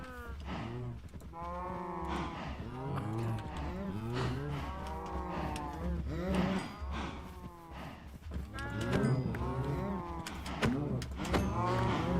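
Cattle, including calves, moo repeatedly in the Minecraft video game, a continuous chorus of loud overlapping low moos with no talking.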